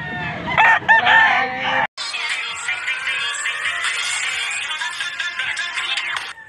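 Chickens and roosters at a poultry market in Pampanga, a rooster crowing loudly and close, followed by a dense, continuous chorus of clucking and crowing from many birds.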